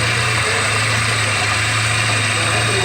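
Car engine running steadily at half load during a fuel injector diagnostic test, a constant loud mechanical hum with a low rumble and faint vibration, no talking.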